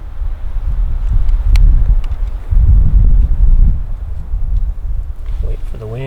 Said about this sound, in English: Wait for the wind.